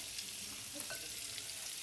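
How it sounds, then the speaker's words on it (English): Butter sizzles and bubbles in an æbleskiver pan for Danish pancakes, giving a continuous close hiss with faint crackles and no talk. "Once that butter starts bubbling, we're gonna add in the batter"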